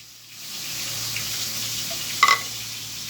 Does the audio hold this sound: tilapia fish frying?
yes